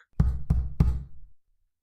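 Three firm, evenly spaced knocks land on a front door, each a short dull thud, followed by silence.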